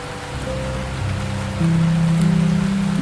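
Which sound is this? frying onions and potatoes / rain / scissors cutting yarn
rain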